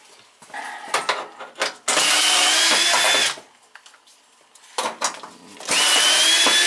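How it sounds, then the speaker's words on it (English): A power drill runs in loud bursts during a 40-gallon gas water heater replacement, whining at high speed for a second or so at a time, with clattering and short pauses between runs. "I think I'm ready for another drill."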